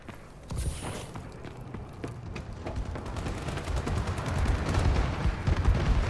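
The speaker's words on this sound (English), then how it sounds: "Enemy bombing run overhead." Rapid bursts of gunfire and muffled blasts from a Call of Duty: Advanced Warfare enemy bombing run, building into a dense, rumbling barrage of explosions and crackling shots.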